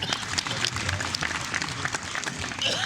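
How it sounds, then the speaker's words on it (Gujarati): A village crowd at a Republic Day gathering claps in a loose, sustained round of applause, with some murmuring voices mixed in. "તાળીઓ તો પાડો."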